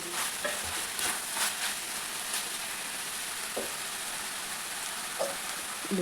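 Ridge gourd stirred and frying in AMC cookware, a steady soft sizzle with scattered scraping stir clicks and taps, close and moderately loud, no voices.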